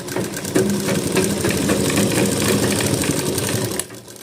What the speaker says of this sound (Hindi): इस तरीके से पूरा बिल्कुल सिलाई लगाना है।